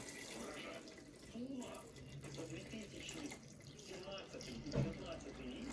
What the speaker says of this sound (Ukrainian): Кипяточка сюди ще зальємо так.